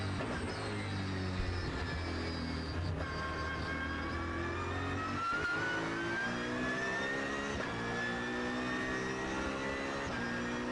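A racing car in an endurance race at the Magny-Cours circuit accelerates hard, with its engine pitch climbing and dropping through gear shifts, loud and continuous.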